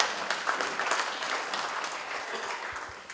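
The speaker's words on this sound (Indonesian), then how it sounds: "Tepuk tangan buat Papua Barat." An indoor audience claps for West Papua at a tropical forest programme briefing, a dense steady patter of applause that fades slightly toward the end.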